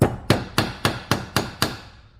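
A hammer strikes a bent nail to straighten it, seven sharp metallic blows at a steady, even rhythm, close and clear, each ringing briefly before the next.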